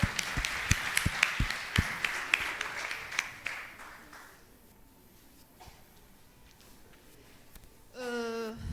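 Small audience at an international toxicology congress clapping for volunteers, a modest round of distinct, fairly close claps that thins out and stops after about four seconds, leaving quiet room tone and a brief voice near the end.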